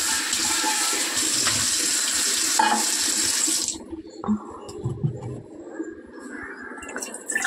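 Tap water runs loudly into a pot to be heated, a steady broad gush that stops after about four seconds and gives way to quieter clinks and handling sounds.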